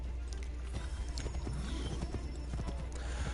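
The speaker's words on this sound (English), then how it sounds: "I thought I wasn't going to be allowed to ride a horse into the village." A horse gallops in Assassin's Creed III, its hooves clip-clopping in a quick, even rhythm over a low in-game background hum, fairly faint, with a brief neigh partway through.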